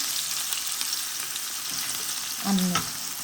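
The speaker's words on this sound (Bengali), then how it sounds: "পেঁয়াজ একটু কাঁচামরিচ আর জিরাটার আমি হালকা একটু ভাজি করিল" Onion, green chilli and cumin fry lightly in a pan, giving a steady soft sizzle that swells briefly into a louder burst near the end, with no voices.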